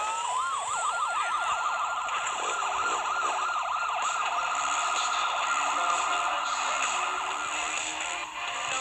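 A police siren in a video game wails over and over in a fast, looping rise and fall, steady and moderately loud against a low background hum, with no voices over it.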